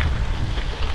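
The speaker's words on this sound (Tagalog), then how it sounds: "Sa sobrang lakas ng hangin, hindi na ako makapagsalita talaga." Strong wind roars and buffets the microphone in a continuous low rumble during a 120 km gravel bike race in 2024, loud and close, with no speech.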